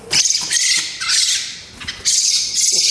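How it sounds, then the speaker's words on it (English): A bird squawks harshly several times in short bursts after being touched inside an empty convent. The calls are close and loud with brief gaps between them, and no one speaks. "that bird did not like being touched"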